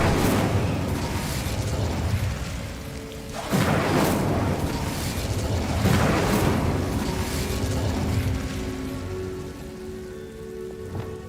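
Incendio fire spell cast in Hogwarts Legacy, several roaring whooshing bursts of flame with booming impacts swelling and fading over a crackling bed, loud and close.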